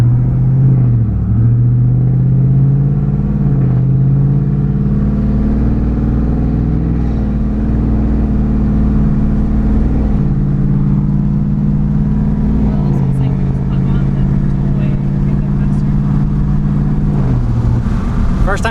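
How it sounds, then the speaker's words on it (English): A cammed truck engine with cylinder deactivation deleted idles and drives with a loud, steady, lumpy rumble throughout, the pitch rising and falling gently with throttle changes, close to the cab. "we're gonna let it idle up, go on a 25-minute drive"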